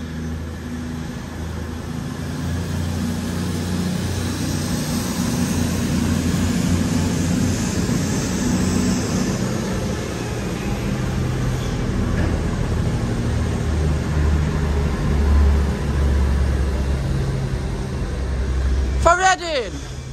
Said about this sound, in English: the 1224 cross country train service from Newcastle to Reading